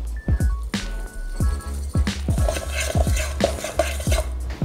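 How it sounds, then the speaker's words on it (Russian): Grated parmesan cheese is mixed with panko breadcrumbs in a bowl, producing a steady run of close, rhythmic scraping and stirring strokes with soft utensil knocks, loud and continuous with no talk. "И смешиваем его вместе с сухарями панко"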